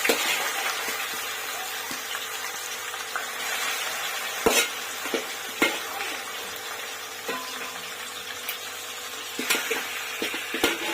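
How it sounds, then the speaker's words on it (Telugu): Marinated chicken going into a hot pan for a large batch of biryani, cooked on high heat: a steady broad sizzle and frying hiss runs throughout, with scattered stirring scrapes and sharp clinks of utensil against pan. "మ్యారినేట్ చేసిన చికెన్ యాడ్ చేసుకుంటున్నాను"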